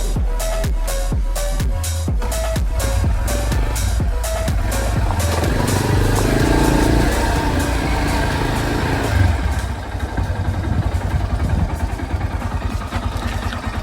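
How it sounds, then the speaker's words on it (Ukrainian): A 2023 Geon X-Road 250 motorcycle fitted with a PZ30 carburetor idles steadily and close by, with rhythmic clatter and some background chatter and talk over the engine. "Холості знов тримає тисячу стабільну"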